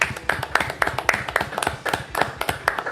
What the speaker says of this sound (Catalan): Posarem un aplaudiment de llauna d'aquests. Espera, fem-lo nosaltres també.